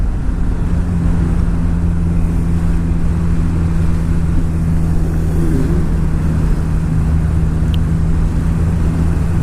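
BMW car taken through a corner fast, a loud continuous low engine drone and road rumble filling the cabin, steady throughout with no clear rise or break.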